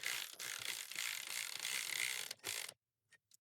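A ratchet snugs down a 7mm bolt on a plastic part during an LS swap wiring job on a 1999-06 GMC Sierra, giving a steady close rasping click run for a couple of seconds, then a brief burst and silence.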